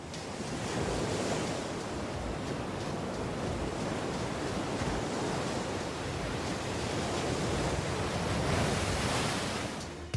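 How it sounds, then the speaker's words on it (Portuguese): Giant ocean waves crashing onto a coast, a continuous heavy roar of surf and spray with steady broadband rumble throughout, loud and unbroken, no voices. "As grandes ondas que atingem a costa são obviamente espetaculares e um pouco assustadoras."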